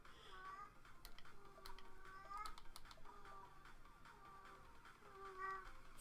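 A cat meows repeatedly in a home where it is in heat, its cries rising and falling through a steady hum of game music, fairly close and moderately loud.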